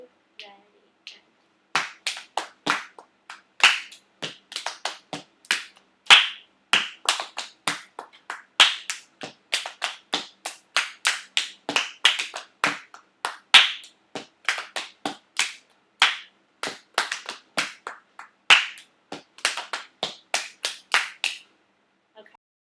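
Two steppin' rhythm parts, A and B, clapped together by hand: a steady stream of sharp, close claps in interlocking patterns, running continuously for about twenty seconds after a brief quiet start.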